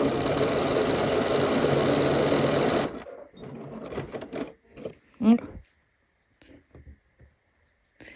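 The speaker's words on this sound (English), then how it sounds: "So now I can just go over here and it will give me a buttonhole the same length." A sewing machine runs fast and steady for about three seconds while stitching a buttonhole on a Loring dress, then stops. Scattered clicks, handling noises and a voice follow.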